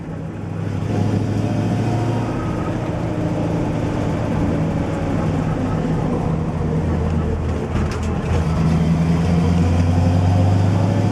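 A 1965 Chevrolet Impala SS with a 4-speed manual gearbox cruises along, its engine a steady low drone with road and wind noise throughout and no talk.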